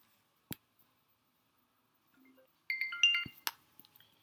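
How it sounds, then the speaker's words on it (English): Faint, quiet phone ringtone from a call placed through an Amazon Connect contact center line, a few short electronic chirps and clicks near the end after mostly silence. "And when the call rings in"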